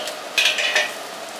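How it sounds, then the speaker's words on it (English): Stirring onions caramelizing in a pan for fried rice: a brief soft scrape and gentle sizzle, close and fairly loud, with two quick clanks of the utensil against the pan. "keep an eye on the onions as well when you are stirring it or leaving it to caramelize"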